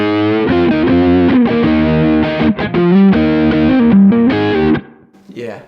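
Electric guitar through a Kemper Gioverb profile, played with an overdriven, dirty tone: sustained chords and notes ring loudly for about five seconds, then cut off abruptly into a brief faint tail.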